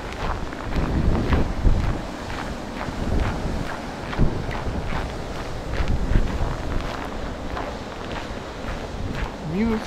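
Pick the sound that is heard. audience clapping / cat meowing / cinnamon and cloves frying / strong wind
strong wind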